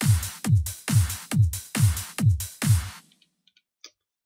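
An FL Studio trance percussion part plays alone: six punchy kick-led hits on a steady beat, each with a bright top, then it stops, leaving a few faint ticks.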